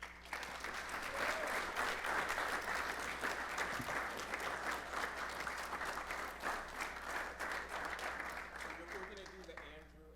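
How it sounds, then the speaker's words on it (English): Sustained audience applause at an alumni awards event, a full even round of clapping lasting about ten seconds before tapering, with faint voices underneath. "So everybody, big round of applause for Michael."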